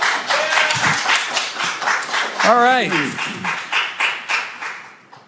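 Audience clapping at a Senate hearing, a scattered round of applause with a rhythmic patter that fades out, while someone speaks over it.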